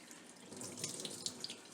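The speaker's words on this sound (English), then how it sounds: "So I'm just rinsing the conditioner out" Water runs steadily from a tap and splashes while rinsing conditioner out of a synthetic wig, a continuous hiss with small bright spatters and no voices.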